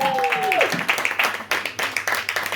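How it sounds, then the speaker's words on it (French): Applause from an audience at a literary gathering where six authors are introduced, a dense steady patter of clapping throughout, briefly mixed with a gliding tone near the start. "Et là, un tonnerre d'applaudissements"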